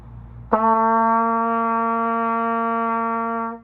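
A single sustained open trumpet note starts sharply and holds steady for about three seconds before fading out, played alone.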